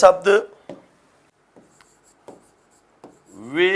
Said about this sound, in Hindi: तो मैं लिख रहा हूं